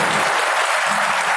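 Steady, dense applause from an audience welcoming the Vice-President of India at BITS, a continuous loud wash of clapping hands with no pauses across the brief moment.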